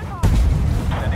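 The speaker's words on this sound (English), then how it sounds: "Blackbird, we need an airstrike." Airstrike explosions in the tank game Armored Warfare: a sudden heavy boom erupts, then settles into a sustained low rumble with rolling blast noise and debris. Nothing is spoken during the blast.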